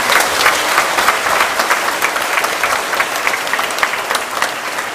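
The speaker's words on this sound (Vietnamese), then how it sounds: "một tràng pháo tay thật nồng nhiệt" A church congregation applauds warmly at a Mass led by an archbishop, sustained loud clapping from a large crowd filling the space, dense and steady for several seconds with sharp individual claps standing out.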